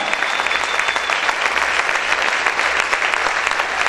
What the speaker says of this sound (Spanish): Aplaude, aplaude fuerte a tu Rey